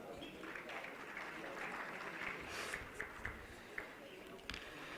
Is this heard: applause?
yes